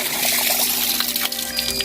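Water trickles and splashes from the filter of an InTex 32 x 16 x 52 above-ground pool, a steady close gurgling flow with faint tonal hum from equipment beneath it and no talking.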